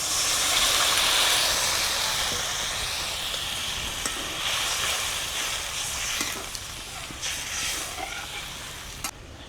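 Curry broth for a katla fish tel jhal with ground coriander leaves comes to a boil in a pan, producing a steady close hiss and bubbling sizzle with a few faint clicks over roughly ten seconds.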